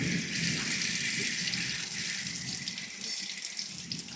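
Water runs steadily from a tap, a close, continuous bright hiss with no break.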